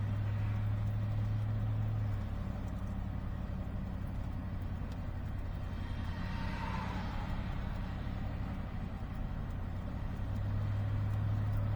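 Cars pass a border checkpoint on a jammed motorway, heard as a steady broad traffic rumble and engine drone, with one vehicle swelling closer mid-way before fading, and no talking.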